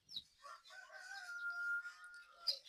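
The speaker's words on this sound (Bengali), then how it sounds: "টাইগার মুরগির বাচ্চা বোর্ডিং চলতেছে।" Tiger-breed chickens and chicks being brooded on a poultry farm, with a bird calling in a drawn-out crow-like tone over about two seconds. Close and fairly clear, with brief clucks around it and no talk.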